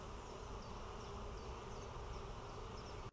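Honeybees on a hive frame buzz in a dense, continuous hum, close and steady, with no voices.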